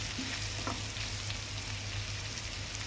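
Prawns frying in a pan with a steady, close sizzle and a low continuous hum, with faint stirring ticks and no talking.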